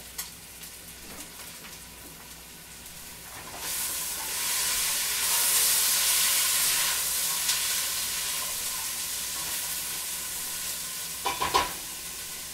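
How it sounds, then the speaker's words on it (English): Vegetable skins dropped into hot olive oil with celery sizzle and hiss steadily, the frying swelling after a few seconds and holding loud, with a few sharp pops and spatters near the end. "I'm going to put that right in with our celery and the olive oil that's already in there."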